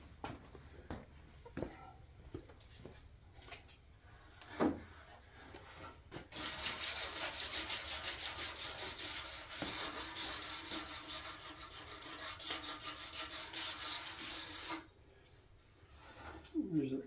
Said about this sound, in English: now I got to sand and get all these little pieces of slivers off of here